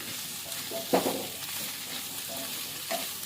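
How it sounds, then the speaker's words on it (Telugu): Kohlrabi pieces with turmeric and salt being stirred in a hot frying pan: a steady close sizzle with a few louder scraping stirs, no voices. "ఈ నూలుకోలు దుంపల ముక్కలను కూడా వేసి మంచిగా కలియపెడదాం"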